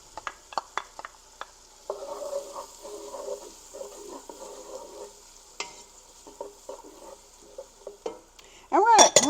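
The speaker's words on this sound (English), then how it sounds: "I'm going to give that a little stir." Green onion and green pepper sizzle and fry at medium-low heat in a pot for okra stew, with intermittent stirring scrapes and soft crackling, fairly close and moderate in level.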